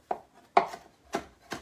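A knife mincing cilantro on a cutting board gives four crisp, separate chops at an uneven pace, close and fairly quiet with no talk.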